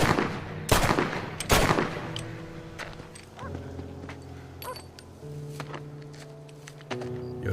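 Two loud, sharp gunshots ring out close together in the Western video game Red Dead Redemption, followed by quieter sustained tones and soft game sounds.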